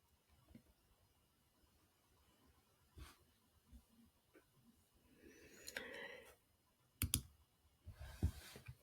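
Faint, sparse computer mouse clicks while setting up a business card design, spaced irregularly over a quiet room with a few louder clustered clicks near the end.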